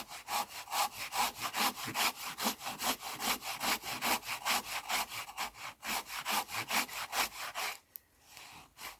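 A hand saw cuts through wood in fast, regular back-and-forth strokes, close and loud, the rhythmic rasping pausing briefly near the end before a couple more strokes.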